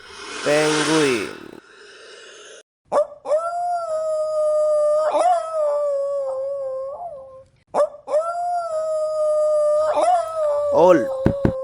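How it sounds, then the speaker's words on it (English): A wolf howls in two long, sustained, wavering calls, each rising and then sliding down, heard up close and clear, with a brief burst of whining yelps before the first howl. "wolf"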